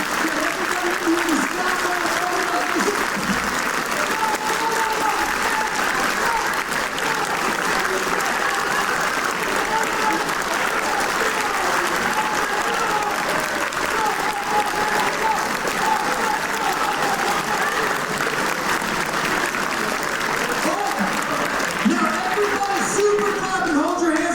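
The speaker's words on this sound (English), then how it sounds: "I want you to start clapping really hard and really fast and really loud." A large audience claps loudly and rapidly in a continuous, dense roar of applause that stays steady throughout.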